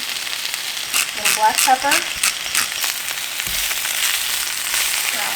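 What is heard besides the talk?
spinach frying in pan for spanakopita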